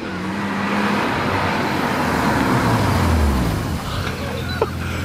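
A BMW 323ci with a six-cylinder engine running on ethanol drives past, a loud steady engine roar that swells and fades with passing traffic on the road.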